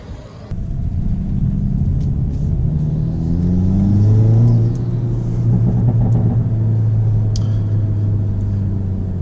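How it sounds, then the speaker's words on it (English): A Hyundai Elantra N engine with an aftermarket turbo inlet and intake revs up with a rising growl and intake whoosh, pitch climbing as it accelerates, then settling into a steady loud drone. "this intake sounds so good"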